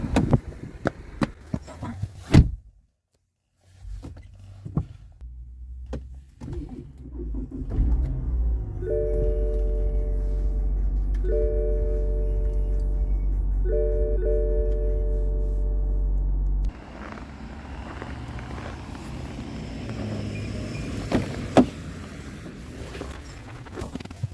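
A BMW 535d diesel engine turns over in cold weather with a steady, droning crank for several seconds as the battery drains, pausing briefly twice, then cuts off as a rougher broadband rumble takes over.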